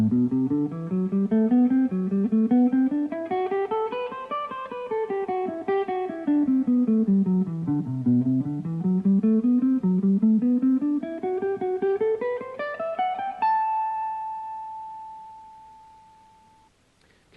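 Slow electric guitar exercise in the A Dorian mode, a single melodic line climbing and descending in steady even notes, ending on one sustained held tone that fades out, played alone without talk.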